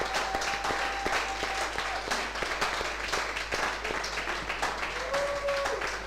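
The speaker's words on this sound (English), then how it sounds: "please, another rounding of applause" Audience applause at a LABAF 2024 breakout session, a steady wash of many hands clapping at moderate distance, continuous for several seconds with faint background tones.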